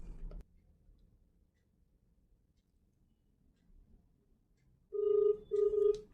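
A phone dials out for a prank call: a short burst at the start, near-silence, then two steady electronic tones like a ringback or dial tone, fairly loud and close.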